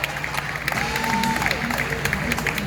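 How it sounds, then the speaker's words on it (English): A live studio audience at the Fear Factor Live show at Universal Studios Florida claps for two contestants. Brief, busy applause and crowd noise, with a sustained tone rising over the middle. "Let's give both of these folks a nice round of applause."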